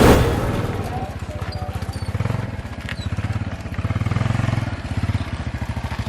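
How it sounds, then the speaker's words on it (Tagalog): A motorized tricycle built from bamboo putters along with a rapid, steady single-cylinder engine chug that pulses evenly and swells slightly in loudness as it runs close by. "agaw atensyon ang isa ka tricycle nga himo sa kawayan"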